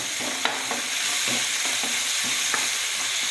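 Onions sautéed in a pan for chicken kurma give a steady close sizzle, with soft periodic scrapes of a spoon stirring through the pan and no talk.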